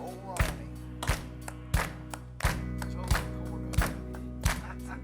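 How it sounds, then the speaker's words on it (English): An audience at a Nashville country music reunion show claps along in a steady, evenly spaced beat, six or seven sharp crowd claps over a background of quiet music. "Now, y'all clap."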